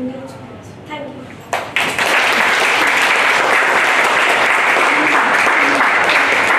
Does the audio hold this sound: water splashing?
no